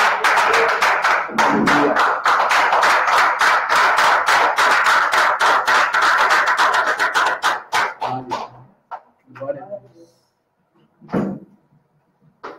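A church congregation applauds loudly: dense, steady clapping from many hands fills the first eight seconds, then thins out into a few scattered claps and taps.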